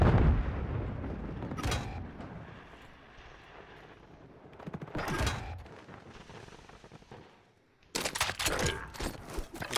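Shotgun blasts in the Call of Duty video game, a few loud bursts spaced irregularly with rumbling game noise between them and no talk.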